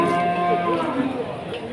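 Cattle at the Wirosari livestock market, where young beef stock such as Limousin and Pegon are traded, low drawn-out moo-like calls over a steady crowded background hum.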